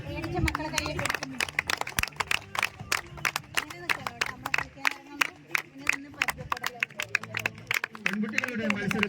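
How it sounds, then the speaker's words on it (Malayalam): Crowd clapping steadily to cheer on players at an inclusive football event in Hosdurg: sharp, fairly regular claps close by, with voices underneath. "കയ്യടിച്ച് പ്രോത്സാഹിപ്പിക്കല്ലേ"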